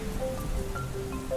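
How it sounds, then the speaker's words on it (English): Rain falls steadily on an outdoor archaeological excavation at an Anglo-Saxon cemetery in Norfolk, a soft continuous patter at moderate level with scattered faint tonal sounds in the background and no speech. "But a sudden rainstorm has come to our aid."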